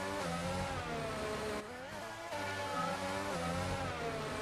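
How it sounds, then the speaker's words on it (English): A Formula 1 car engine revving in a Formula 1 video game, a high steady harmonic whine that dips briefly as the revs shift, then climbs again, loud and close with no talk over it. "Listen to the revs."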